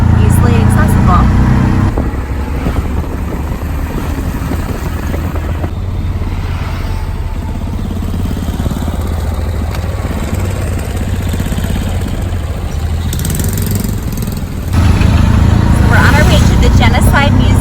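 A tuk-tuk engine runs steadily outside a hotel in Phnom Penh, Cambodia. Its low, continuous rumble is close and fairly loud, and voices talk over it throughout.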